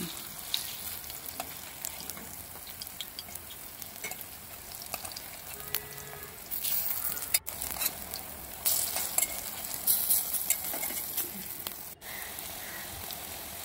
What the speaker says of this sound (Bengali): একদিক লাল লাল করে ভেজে নেব।